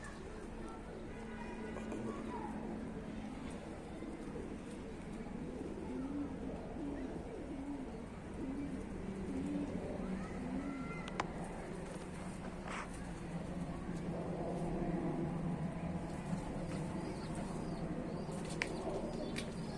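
Domestic tumbler pigeons coo softly in a repeating low warble, with an occasional flutter of wings, over a steady background hum.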